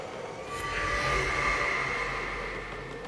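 Shards in Dragon Age: Inquisition give off a low, sustained humming drone with a faint tonal shimmer above it, steady and moderately loud, swelling slightly then holding with no talking.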